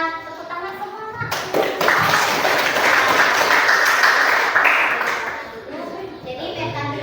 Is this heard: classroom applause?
yes